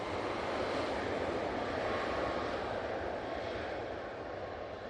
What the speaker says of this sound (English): On final now, we do have a Ryanair coming in from Dublin.